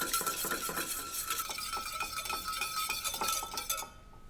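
A whisk clinks steadily against a bowl while vinaigrette of olive oil, salt and pepper is beaten together, quick rhythmic metallic taps at close range with no talking, fading out at the end.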